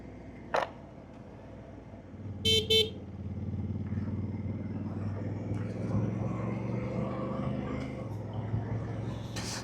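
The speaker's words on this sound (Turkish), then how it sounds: "Dede niye duran arabalara korna çalıyorsun?" An old rider on a motorcycle sounds its horn at stopped cars on a road: a short toot, then two quick honks, over a steady engine hum and light traffic noise.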